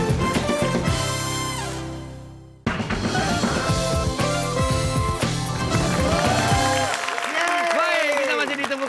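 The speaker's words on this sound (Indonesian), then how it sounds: "kita berikan tepuk tangan dulu untuk Fatra" An audience claps for a contestant on the Indonesian word game show Temukan Kata, a dense burst of applause mixed with music and a host's voice that fades, then resumes under continued talk.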